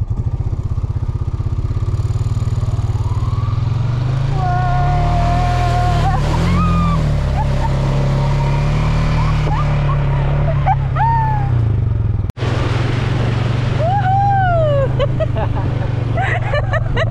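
A quad bike rides on the way to the Itaipu lighthouse on the Maraú Peninsula, its engine droning loudly and continuously with rising and falling revs, while people talk over it.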